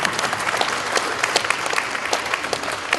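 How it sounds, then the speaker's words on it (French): An audience at the Smart Agri Forum 2019 closing session claps for the startups, a dense, steady round of applause from a sizable crowd, close and even throughout. "Je crois qu'on peut applaudir nos startups"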